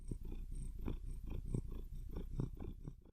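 A house cat purring up close, a steady low rumbling purr pulsing in a regular rhythm of breaths, continuous and soft with no talking.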